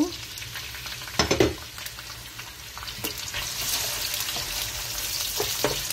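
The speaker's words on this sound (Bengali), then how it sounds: "তো এখন পেঁয়াজ কুচিটি দিয়ে দিব।" Chopped onion hits hot oil in a pan with a sharp spitting burst, then settles into a steady close sizzle, with occasional clinks and stirring sounds.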